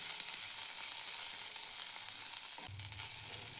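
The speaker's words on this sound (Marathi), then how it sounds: "पाच मिनिट घ्यायची आहे गवारीची शेंग भाजून" Guar (cluster bean) pods roast in a pan over medium gas, giving a steady dry sizzle throughout with a brief scrape or stir near the end, no voices.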